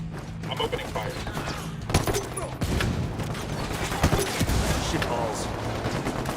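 Heavy exchange of gunfire in Ghost Recon Wildlands, with overlapping shots, bursts and sharp cracks throughout, mixed with voices in the background.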